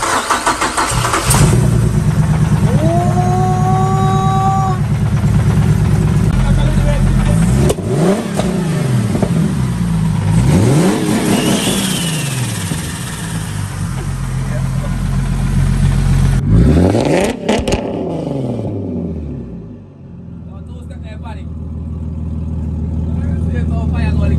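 A Saab car engine starts and revs repeatedly, rising and falling in pitch, loud and close, then settles toward idle near the end.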